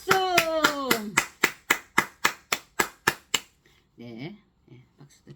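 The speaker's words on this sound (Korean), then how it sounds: "박수도 치고" Hands clap in an even, sharp rhythm, about a dozen crisp claps, following a sung or chanted voice, then stopping as brief speech-like sounds continue.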